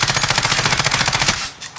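An automatic weapon is held on full fire in Call of Duty Warzone, giving a rapid, evenly spaced burst of gunshots for about a second and a half before it stops abruptly.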